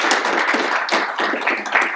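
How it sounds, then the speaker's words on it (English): Audience applause for a panelist at a World Cup 2022 panel discussion, a dense, steady crowd clapping that carries through with no talking. "Round of applause for Danyel Reiche."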